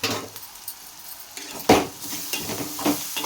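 Onions softening in a hot pan while a spoon stirs and scrapes, a steady low sizzle broken by a few sharp metallic clinks of utensil against the pan.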